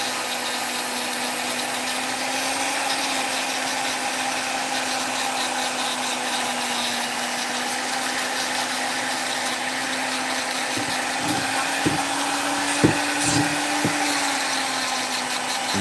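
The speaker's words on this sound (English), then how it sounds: "And sometimes these sanding wheels just do a good enough job on their own." A rotary sanding wheel works over a carved wood fairy house, giving a steady, loud grinding whir that runs without a break, with a few sharp scrapes near the end.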